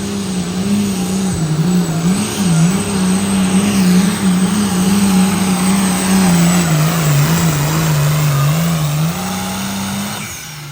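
King Semak pulling tractor, driven by Mike Hall at the Springville, Iowa truck and tractor pull, roars loud and steady with a wavering high-horsepower drone that holds for about nine seconds, then eases off near the end.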